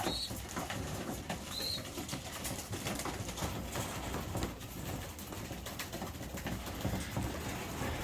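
Racing pigeons in a loft cooing softly amid a steady background of rustling, shuffling and light patter, with a couple of brief higher chirps near the start.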